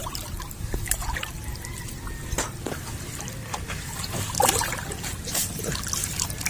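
Strong river current running past, a close trickling, splashing flow with scattered drips and gurgles over a low rushing bed, moderately quiet and without talk.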